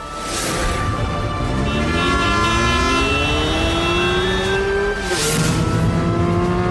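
A car drives at speed with a continuous loud rumble and rising, shifting engine tones, a whooshing pass near the start and end.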